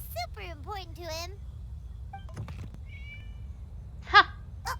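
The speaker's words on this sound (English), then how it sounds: "It was just a cat." A cat meows three times in quick, rising-and-falling cries, followed by a few faint clicks and tones and then a short voice.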